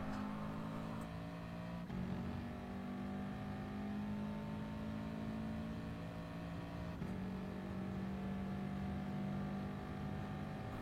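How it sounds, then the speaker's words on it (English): A race car accelerates hard out of a turn on a circuit, its engine drone steady and loud with rising gear-pitch sweeps and two quick shift breaks. "you can then start to fully accelerate."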